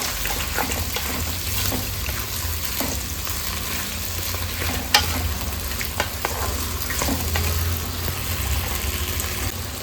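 Potatoes and pumpkin leaves fry in a pan with a steady, close sizzle, broken by scraping stirs and a few sharp clinks, with no talking.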